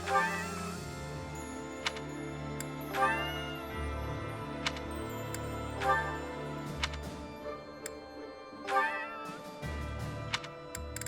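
A cat meows repeatedly in Fire Emblem: Three Houses while the player feeds it. The short, rising calls come every couple of seconds over steady game background music, with no talk.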